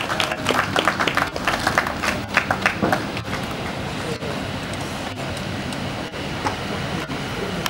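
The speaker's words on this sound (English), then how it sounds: "A round of applause, please." Applause from a crowd at the reopening ceremony of Manhyia Palace Museum, a steady wash of clapping with sharper individual claps standing out early, continuing at a fairly even level.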